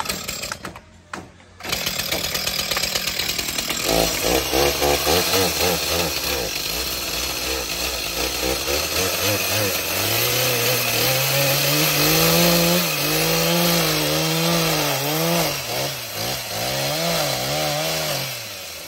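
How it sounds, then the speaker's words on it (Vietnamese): Chainsaw cutting through a tree trunk to make a drum, outdoors on a mountaintop, running loud and steady for most of the stretch after a brief start, with the engine pitch rising and falling as it bites into the wood. "Máy cưa là cắt đấy. Cắt cây làm cây trống"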